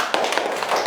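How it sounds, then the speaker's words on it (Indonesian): Audience clapping at a Qur'an and Hadith workshop for fifth-grade pupils, a quick burst of dense, even claps lasting under a second. "Terima kasih, tepuk tangan."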